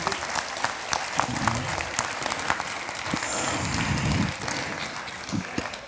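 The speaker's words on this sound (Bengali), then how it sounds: "জোরে হাততালি হোক।" Audience at a Bengali drama festival staging of Noti Binodini applauding, a sustained wash of many hands clapping in a hall, even and fairly loud throughout.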